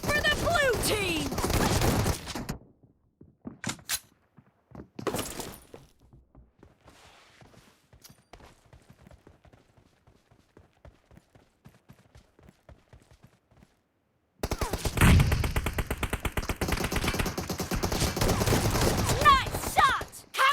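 Shotgun fire in a team shooter video game, with dense loud bursts of blasts at the start and again at the end, separated by a quiet stretch of sparse clicks and steps.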